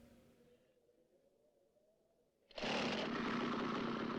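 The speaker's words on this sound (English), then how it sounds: "Chainsaw." Chainsaw roaring in the 1987 horror film Evil Dead 2, bursting in suddenly and loud after a quiet, low engine idle, then holding a harsh, steady high-revving buzz.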